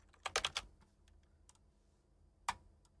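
Quick typing on a computer keyboard while renaming an item in the StarCraft II cutscene editor: a tight burst of several key clicks, a few scattered single taps, then one sharp keystroke, close and fairly quiet in a still room.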